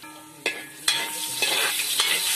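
Garlic frying in a pan for pipián, a steady close sizzle with a few sharp stirring clanks of a utensil against the pan, no talking.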